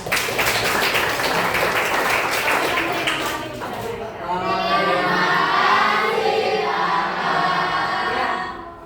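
A high school classroom of students breaks into applause, a dense wash of clapping for about four seconds before children's voices and chatter take over, loud and close.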